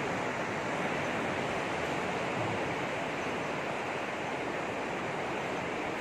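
Sea waves wash continuously beside a seaside cave, a dense, steady roar of surf and churning water at an even level throughout, with no voices.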